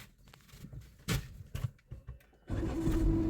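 A car engine cranks with a few short bursts with the clutch fully pressed, then catches and settles into a steady running idle, fairly close.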